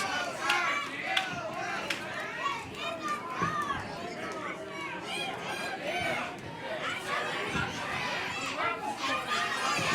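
Wrestling fans at a live Chaotic Wrestling show shout and cheer continuously, a dense crowd roar with overlapping yells and chatter filling the whole stretch, mixed with nearby voices.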